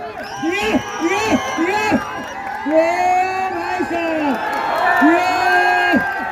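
Spectators shout, whoop and cheer around a wrestling bout at a village fair, loud and continuous, with someone talking excitedly over the crowd throughout.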